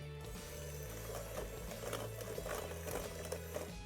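An electric mixer whirs steadily as it beats a second egg into banana bread batter, a close, continuous mechanical hum with light rattling and no talking.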